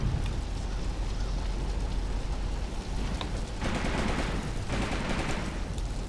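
Dense, continuous crackle of rapid gunfire and blasts from the tank battle video game Graviteam Tactics: Mius-Front, steady and loud throughout with heavier bursts near the end.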